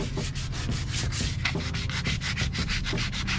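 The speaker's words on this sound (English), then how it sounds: "And I'll sand it all the way up to the tape where I've masked it off." Steady close-up sanding strokes rub around a Gemini boat window frame, prepping the surface right up to masking tape before sealant goes on, with a continuous scratchy rhythm and no talking.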